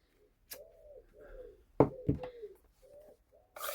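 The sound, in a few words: wood pigeons cooing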